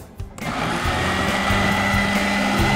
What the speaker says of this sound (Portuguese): Liga o liquidificador.